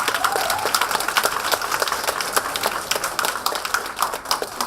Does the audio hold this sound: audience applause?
yes